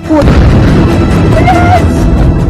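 A loud, sustained boom of a drone explosion in Tel Aviv rumbles with heavy low-end energy, with faint tonal sounds layered over the blast.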